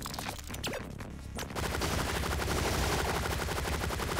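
Gunfire from a weapon in the video game Relic Hunters, dense rapid-fire bursts of shots, loud and continuous, with a short lull in the first second and unbroken automatic firing from about 1.5 seconds on.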